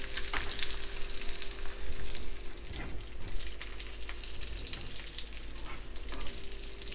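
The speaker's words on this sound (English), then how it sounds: "We'll allow them to brown on either side for about 2 or 3 minutes" Fish patties frying in a pan give off a steady, close sizzle that holds level throughout, with a constant hum underneath and a few soft clinks and splashes.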